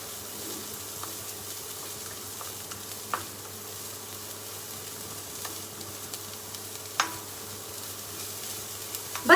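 Mixed vegetables sizzle gently in a hot pan for restaurant-style manchow soup, a steady low frying hiss with a few soft scrapes and clicks of stirring, no voices.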